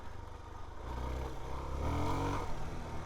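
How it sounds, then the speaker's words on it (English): A Suzuki DR-Z4S motorcycle in ride mode A, its throttle snapping open with audible intake noise: a steady low engine drone that swells and climbs in pitch partway through, loud and close, with no talking. "the throttle response in A mode is so much snappier. And we got some intake noise"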